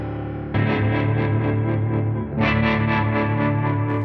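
A piano part from a rough rock mix, pitched up and washed in reverb until it becomes a sustained, shimmering pad, with rhythmic swells and a brighter second phrase after a brief dip, heard alone and fairly loud.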